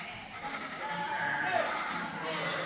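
A person imitates a sheep's bleat in a church setting, a drawn-out nasal baa that wavers for a couple of seconds over a murmur of room noise.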